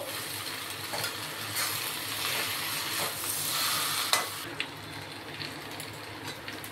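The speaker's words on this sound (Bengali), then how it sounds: "এবার এর মধ্যে আমি জল দিয়ে অ্যাড করলাম।" Fish bones and spices fry in a pan for a bhetki bone curry, and a splash of water sets off a dense, hissing sizzle that holds steady with stirring scrapes, then a couple of sharp clinks as it settles.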